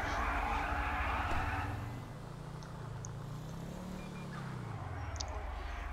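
A car doing tire burnouts in GTA V: a loud engine roar and tire squeal at first, then the engine note rising and falling as revs swell and drop, continuous with no talking.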